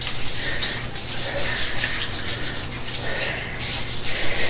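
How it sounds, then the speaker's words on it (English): A hand rubbing oil over a shaved head before shaving, a steady close-up swishing friction with repeated strokes, heard alone without talk. "I'm going to rub it in nice."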